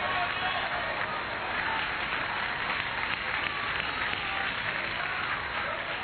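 A church congregation at a Bible study applauds for Christ, a continuous, even roar of clapping lasting about six seconds with crowd noise mixed in.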